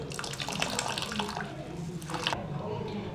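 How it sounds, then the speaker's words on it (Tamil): Whey water from homemade paneer pours and splashes steadily as it drains, a continuous watery rush with brief spattering bursts, fairly close. "இப்போது இதை ஒரு பால் மாதிரி செஞ்சு இதில் இருக்க தண்ணியெல்லாம் நம்ம ட்ரெயின் பண்ணிக்கலாம்."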